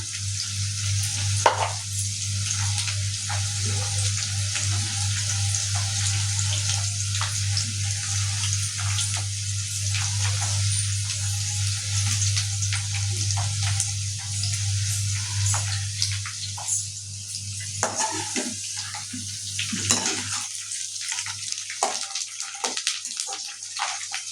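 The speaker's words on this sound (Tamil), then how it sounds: "பொரிக்கிட்டோம் கருவேப்பிலை" Curry leaves sizzling in hot oil, a loud continuous hiss with scattered crackles and pops, easing off slightly toward the end.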